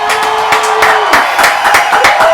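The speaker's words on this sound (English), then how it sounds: "Round of applause, please." Loud, close applause and cheering from a live show audience, with dense rhythmic clapping and a held whistle or shout at the start.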